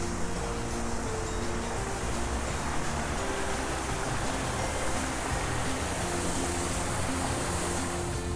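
A waterfall at Scandinavian Heritage Park in Minot, North Dakota, gives a steady, dense rush of falling water that holds at an even level throughout, close and continuous with no voices.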